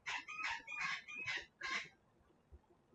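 Birds call outdoors in five quick, bright bursts, fairly near and clucking like fowl, then fall quiet against a faint background.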